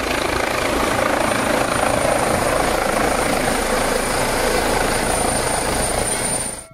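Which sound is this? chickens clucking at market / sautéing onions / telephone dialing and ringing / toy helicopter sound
toy helicopter sound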